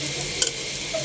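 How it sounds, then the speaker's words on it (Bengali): Sliced onions frying in a pan for a leafy greens dish give a steady broadband sizzle, with a brief stirring scrape and clatter near the middle, heard up close with no talking. "আমার গিমা শাকের পেঁয়াজগুলা ভাজা প্রায় হয়ে আসছে"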